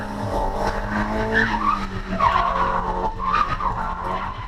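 A drift car runs through S-bends on a race track during a track day, its engine roaring steadily with tires squealing in sliding bursts, loud and continuous throughout.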